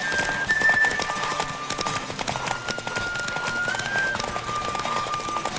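Horse galloping in The Witcher 3 video game, rapid rhythmic hoofbeats running steadily and close throughout, with a sustained whistling wind tone over them.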